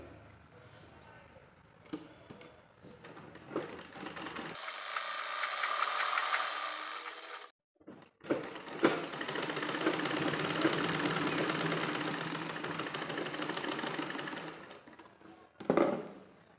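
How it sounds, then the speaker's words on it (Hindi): A sewing machine runs straight stitches along the seam of a six-panel petticoat in close, steady mechanical bursts, pausing briefly midway before whirring on again. "अब हम यहाँ पर नेपा छोड़ते हुए यहाँ पर सीधी सिलाई और कर लेंगे, इन दोनों को अटैच करते हुए।"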